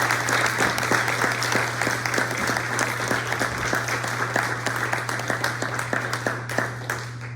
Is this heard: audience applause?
yes